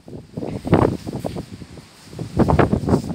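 Strong wind buffets a microphone on the fourth floor of an apartment building in Mexico, coming in two loud rushing gusts with a quieter stretch between them and no voices.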